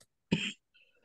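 A single short cough, close and moderately loud, followed by silence and a faint trailing murmur.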